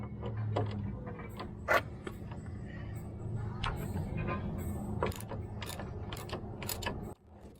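A small wrench works loose bolts during front CV axle replacement on a first-generation Toyota Tacoma, giving repeated metallic clicks and ratcheting ticks with a few sharper clanks under low garage rumble, ending abruptly.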